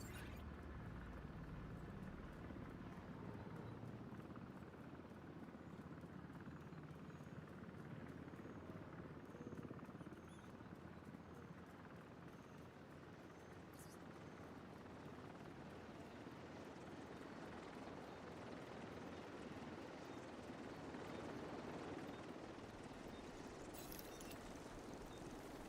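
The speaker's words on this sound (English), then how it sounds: "Helo arrived." A helicopter arriving in Division 2 makes a continuous low rotor drone and rumble that holds steady and fairly loud through the whole stretch, with faint clicks near the end.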